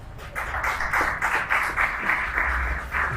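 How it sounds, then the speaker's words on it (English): An audience claps in steady applause at a youth entrepreneurship and civic awareness event in Nigeria, a dense, even patter of hands filling the few seconds with a faint voice beneath. "Let's give you a sounding round of applause."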